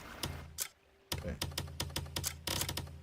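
A keyboard clacks loudly and close, in quick irregular bursts of keystrokes after a short pause, with no talking.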